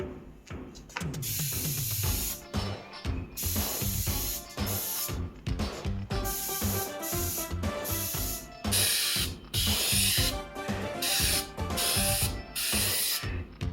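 A spray can lays a first coat of paint on a 3D-printed TMNT movie turtle shell in repeated loud, close hissing bursts separated by short pauses, with faint rattles between sprays.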